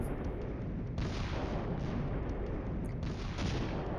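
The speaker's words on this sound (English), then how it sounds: "The mortars are doing their suppression game on the left-hand side, which is cool." Mortar fire in the Cold War wargame Flashpoint Campaigns, a dense run of booming artillery-like blasts and crackling impacts, loud and continuous with no talk.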